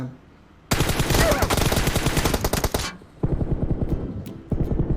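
Vintorez suppressed rifle fire in PUBG Mobile, rapid bursts of automatic shots after a quiet start, one long sustained volley followed by a pause and two shorter bursts.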